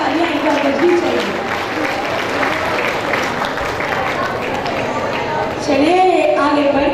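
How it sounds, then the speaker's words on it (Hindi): Loud, sustained applause from a large crowd at a Madhya Pradesh event, steady clapping throughout with a voice speaking over it near the end. "और जोरदार तालियां एक बार बजनी चाहिए।"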